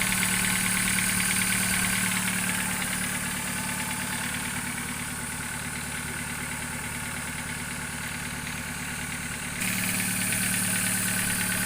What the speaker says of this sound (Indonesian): Tuh dengerin suara mesinnya ya, kayak suara apa namanya genset sawah ya, tak tak tak tak tak tak tak.